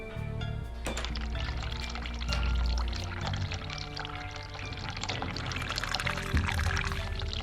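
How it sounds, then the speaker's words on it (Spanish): Water running steadily from a cold tap in the game The Cat Lady, a continuous pouring splash that holds at a fairly loud level throughout, with game ambience underneath. "Hay que abrir el grifo primero. Abrir agua fría."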